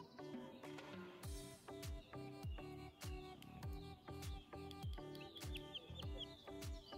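Newly hatched chicks peep in a quick, repeated series of high chirps, fairly faint and close, with no talking over them.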